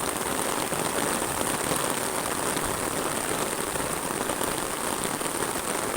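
Heavy rain pours steadily in a broad, dense roar, constant and loud throughout with no pauses, while someone walks along a road with no houses nearby.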